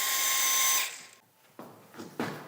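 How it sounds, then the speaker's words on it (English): Power drill with a machine thread driver turning a rail bolt for a newel post: a steady, close whir runs for about a second, then stops, followed by a few short, sharp bursts as the bolt is driven in. "Bump your drill speed down to 1 for a little bit more torque."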